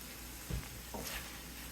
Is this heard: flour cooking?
yes